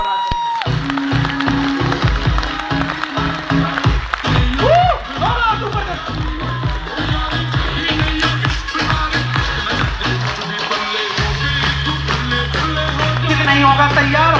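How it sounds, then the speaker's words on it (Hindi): An audience in a hall at a motivational seminar claps and cheers loudly, the applause mixed with pounding music and a voice speaking over it. "ये हॉल आपकी तालियों से सराबोर होना चाहिए"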